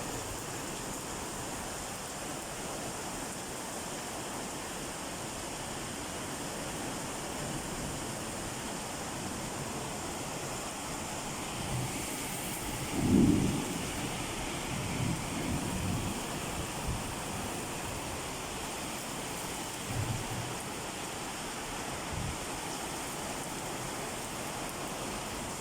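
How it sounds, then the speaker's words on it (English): Heavy rain makes a steady, even broadband hiss that continues for the whole stretch without a break, with a few faint thumps and knocks underneath. "Heavy rain. Heavy rain."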